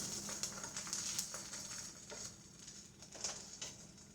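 Bread slices for toast frying in oil in a pan give a faint, steady sizzle with light crackles, quiet and continuous.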